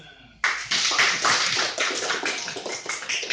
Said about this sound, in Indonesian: tepuk tangan untuk lagunya